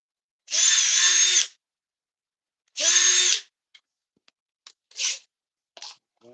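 Two loud bursts of a power drill whirring, each about a second long, followed by faint clicks and small handling sounds.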